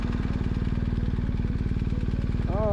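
A BMW R1250GS motorcycle on road tyres rumbles steadily off-road, its boxer engine giving a close, even, pulsing drone throughout, with a brief rising tonal whine near the end.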